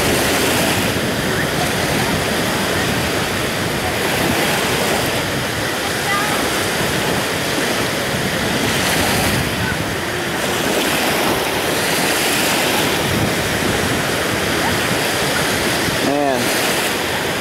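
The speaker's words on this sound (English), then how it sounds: "Oh, here comes some big waves." Big ocean waves wash up on a sandy beach in a steady, loud roar of surf that fills the whole clip, with wind noise and surging water and a voice talking briefly near the end.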